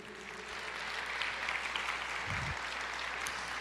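A church congregation applauds during a Portuguese-language sermon: a faint, distant, even wash of clapping that swells slightly and holds steady for a few seconds, with no individual claps standing out and no speech.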